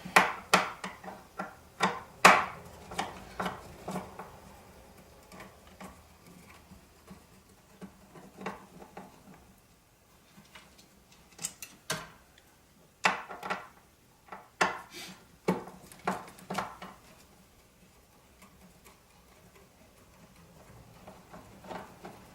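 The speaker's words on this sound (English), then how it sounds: "So we're going to continue removing these 8 screws." Screws being removed from the board of a Stern Whitestar pinball machine, heard as scattered close clicks, taps and small metallic clatters in short bursts separated by quiet pauses.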